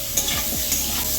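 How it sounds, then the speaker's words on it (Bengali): Vegetables sizzle steadily in a pan for a vegetarian spinach dish seasoned with salt and turmeric, with repeated scraping stirs of a spoon cutting through the continuous close frying hiss. "ভালো করে সবজিটা ভালো করে ভেজে নেব।"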